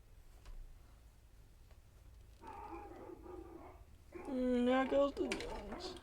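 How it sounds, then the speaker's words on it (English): Dogs bark outdoors in a short burst of several yips and barks toward the end, moderately near and rising over a quiet background while a man is working on a 1995 Philco 19-inch TV. "There goes the dogs."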